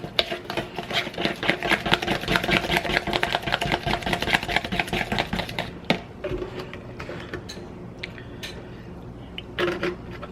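Hot water cornbread batter stirred by hand in a bowl, a fast, steady run of wet slapping and scraping strokes that stops after about six seconds, followed by a few scattered taps and knocks.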